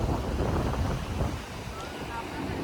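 Strong wind at Antarvedi beach buffeting the microphone in a loud continuous rumbling roar, with faint surf beneath and a voice briefly audible.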